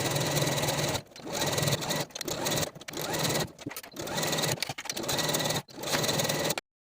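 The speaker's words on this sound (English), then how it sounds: "sew your hem in place all the way around" A sewing machine runs loud and close while stitching a tee shirt hem, a dense continuous whirring stitch interrupted by several short stops and restarts before cutting off.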